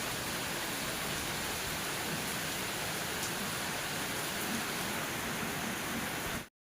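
Rain falling in a steady, dense hiss, even and unbroken for several seconds before cutting off abruptly at the end; no voices.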